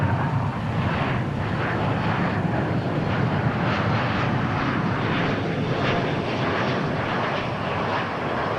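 An American Airlines jet takes off at Dallas Fort Worth airport, a loud, broad, steady roar of jet engines with a pulsing texture that holds for several seconds.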